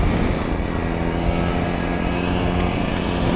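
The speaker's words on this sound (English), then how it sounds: "we got Landon on his little two-stroke quad right here" A small 50cc two-stroke quad engine buzzing steadily as it rides on a lake bed, a continuous raspy drone heard at moderate distance with no talk.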